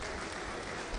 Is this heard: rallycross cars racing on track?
no